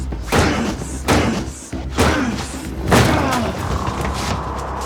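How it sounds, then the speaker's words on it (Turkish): A locked door being forced open with repeated heavy blows: four loud slamming thuds about a second apart, each booming with a rattling tail, close by. "Kır abi kapıyı kır."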